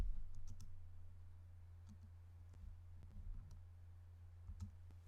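Faint, sharp computer mouse clicks, several spaced a second or so apart, sound over a low steady hum while Zoom meeting settings are saved.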